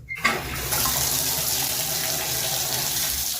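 Water gushes steadily from a newly installed Gerber tub valve and spout, a loud continuous rushing that starts abruptly after a brief quiet moment and keeps flowing with no voices.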